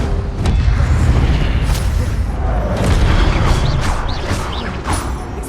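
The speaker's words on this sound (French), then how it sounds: "Incendio." Incendio fire spell cast in Hogwarts Legacy, a loud whooshing burst of flame with rumbling booms and crackling effects spread over several seconds, dense and continuous.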